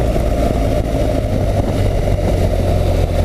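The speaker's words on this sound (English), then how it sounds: "It chugs from low gears." A BMW R 1200 GS motorcycle engine chugging in low gear, a loud, steady, deep throbbing drone that holds constant without pauses.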